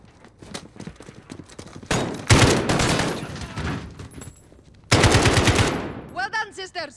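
Bursts of automatic gunfire in Call of Duty: Modern Warfare: a sustained loud volley, a quieter stretch of scattered shots, then a second heavy burst that cuts off abruptly.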